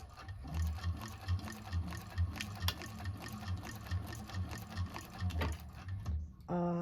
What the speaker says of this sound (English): sew on down.